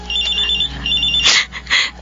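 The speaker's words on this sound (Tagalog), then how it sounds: "Ang cellphone ko." A cellphone rings loudly and repeatedly in a steady electronic ringtone pattern, bright tonal bursts continuing throughout with no talking over it.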